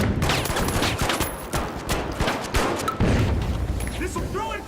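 Flashbang grenade blasts in the video game The Finals, a dense barrage of loud bursts and booms packed close together over gunfire, with a voice talking throughout.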